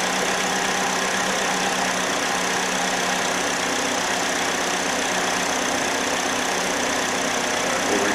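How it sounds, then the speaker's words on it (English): A 2.4-litre Chevy Malibu engine with a P0016/P0017 timing fault idling close up, a loud, constant, even drone with a faint ticking texture and no voices. "Want to make sure the idle comes down on the car so we've got really good comparison."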